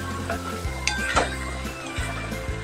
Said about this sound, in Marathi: आता हे साखर टाकल्यामुळे पुन्हा पातळ झाला आहे, तर पुन्हा आपण थोडा वेळ जरा परतून घेऊया.